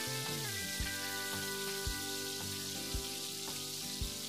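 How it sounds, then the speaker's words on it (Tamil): Steady sizzling of onions and garlic frying in hot oil, a constant crackling hiss with faint periodic clinks in the background. "நல்லா வதக்குங்க அது எண்ணெயிலேயே."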